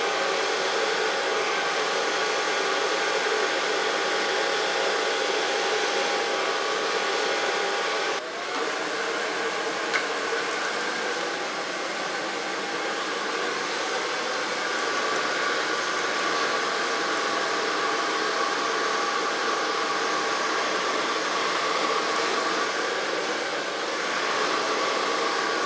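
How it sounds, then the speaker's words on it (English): Hair dryer blowing on hair during a cut-and-colour styling session, a loud continuous whoosh that holds nearly steady throughout, with a brief dip partway through. "then I'm going to blow dry the hair, starting on the longest side."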